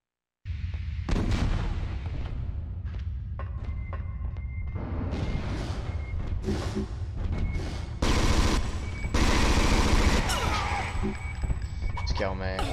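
Grenade blasts and gunfire in the video game Alien Resurrection, a dense, continuous barrage of shots and booms with loud bursts near the end.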